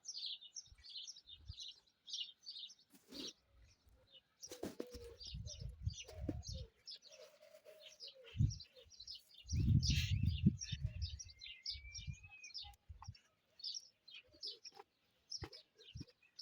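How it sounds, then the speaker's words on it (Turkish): Birds newly brought home, a pair among them, call with frequent high chirps and tweets and low dove-like coos, plus some rustling and bumping. They sound close and moderately loud, with no talking. "amcaoğlum güzel kuşlar getirdi. Ben bir çift kuş aldım"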